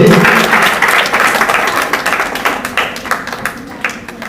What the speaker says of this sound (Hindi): जोरदार तालियां बच्चे के लिए।